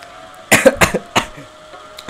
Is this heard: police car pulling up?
no